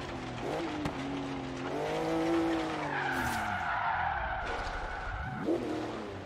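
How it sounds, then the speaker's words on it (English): A car engine in the video game Forza Horizon 3 roars, then tires squeal and skid as the car slides off the road, the revs dropping and rising again. "I slide off the road."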